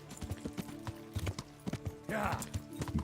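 Horse hooves clip-clopping in the medieval video game Kingdom Come: Deliverance, a wounded horse stepping in quick irregular beats close by, with a person talking over them.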